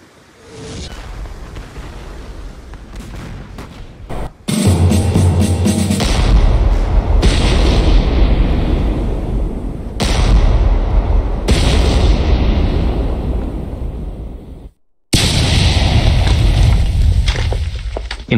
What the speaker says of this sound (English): the Americans bombard the Minutemen main base in a capital ship